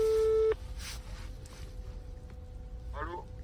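A telephone call tone sounds as a loud steady beep for about half a second, then gives way to quiet room noise with brief faint rustles and a short voice near the end.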